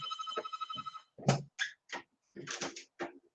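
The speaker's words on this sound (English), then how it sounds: "Phone's ringing." A phone rings with a steady electronic trill for about a second, followed by someone talking in short bursts.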